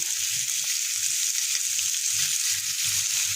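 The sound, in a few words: stirring cheese sauce in a hot pot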